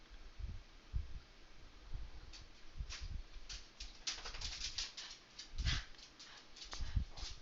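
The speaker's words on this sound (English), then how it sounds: "Dogs are going nuts because of the firecrackers." Dogs bark and whimper in short repeated bursts during a nighttime firecracker display, loud and close, with scattered popping bangs in the background.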